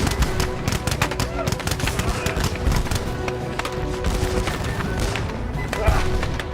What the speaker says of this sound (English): The Canadians fire a single devastating volley.